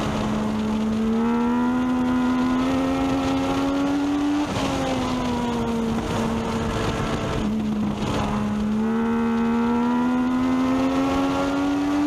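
A Legends race car on a qualifying lap at Meridian Speedway holds a loud, steady engine drone through the whole lap, dipping briefly as it lifts off for the turns and climbing again on the straights, with no talking.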